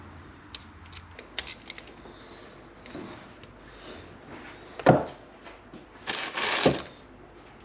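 Screws being driven and tightened into a Suzuki DRZ 400 engine case with Loctite, metallic clicks and ratcheting tool turns in short bursts, with a couple of louder clattering grinds near the end.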